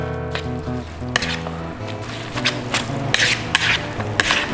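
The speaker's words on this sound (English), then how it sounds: "Mix it well." Glass noodle salad with squid and shrimp tossed by hand makes wet squishing and rubbing noises close up, with several sharp clicks and scrapes against the bowl over a low steady hum.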